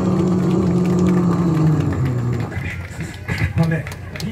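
At a railway festival, a performer vocally imitates a diesel train pulling away, producing a droning engine-like hum that slowly shifts pitch, followed by a few rougher, throatier bursts.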